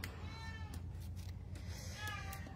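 A pet cat meows several times indoors, fairly faint, with its drawn-out cries rising and falling over a steady low background hum.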